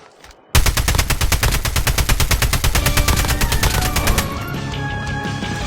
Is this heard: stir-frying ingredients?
no